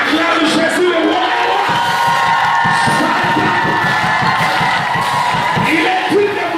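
A church congregation cheers and acclaims during a French-language childbirth blessing prayer, a loud, continuous crowd roar of shouts and whoops with rhythmic pulses that fill the whole span.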